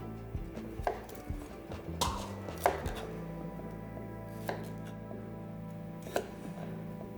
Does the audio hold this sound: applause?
no